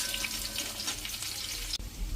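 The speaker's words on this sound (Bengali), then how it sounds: "পেঁয়াজটা একটু লাল লাল করে ভাজা হবে।" Onion frying in oil in a wok, a steady crackling sizzle at close range with a brief clunk near the end.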